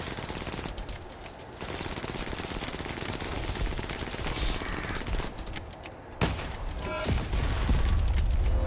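Rapid, sustained automatic gunfire from a gun in the shooter game The First Descendant, loud and continuous, with a brief lull and then a heavier burst toward the end.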